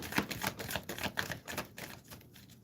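Tarot cards being shuffled, a quick run of dense papery riffles and flicks that repeat steadily for a couple of seconds, close and fairly quiet, with no talking.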